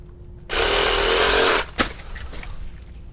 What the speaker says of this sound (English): I use this reciprocating saw,